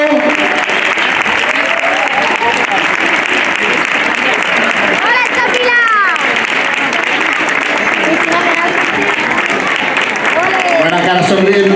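Sustained crowd applause at an outdoor race awards ceremony in Dos Torres, Córdoba, loud continuous clapping with voices and cheers mixed through it.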